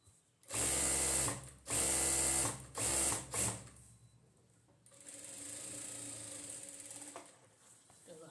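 Sewing machine stitching palazzo pyjamas: a few loud, close bursts of rapid stitching, then a softer, steadier whirring run.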